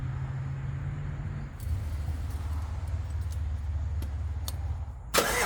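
A Chevrolet Silverado truck engine cranks and catches, then settles into a low steady idle rumble heard up close, with a sharp click or clunk near the end.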